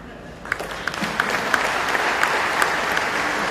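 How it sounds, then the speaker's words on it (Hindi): Thin, scattered applause at an award ceremony for market analysts, a few hands clapping in uneven bursts over a steady room murmur, with no talk. "लेकिन मैं देख रहा हूं मुश्किल से तालियां बज रही हैं"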